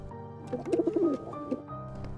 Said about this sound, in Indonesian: kemudian didatangi oleh seekor burung.